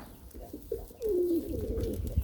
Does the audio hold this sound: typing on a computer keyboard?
no